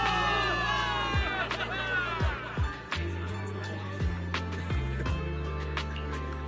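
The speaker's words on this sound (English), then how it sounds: "Give it up for yourselves, soldiers! Cheer for victory!" In the Zenless Zone Zero video game, a crowd of soldiers cheers for victory with a broad, sustained roar of shouts and whoops. Scattered louder yells rise and fall over a steady low drone.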